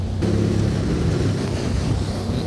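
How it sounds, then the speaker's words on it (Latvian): A motorboat races along at very high speed alongside a rowing race, giving a loud, continuous engine roar mixed with rushing water and buffeting wind noise on the microphone, with no voices. "Mēs braucam jau ar motorlaivu ļoti lielā ātrumā"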